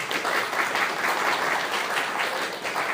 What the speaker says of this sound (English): Can we give you a round of applause, please?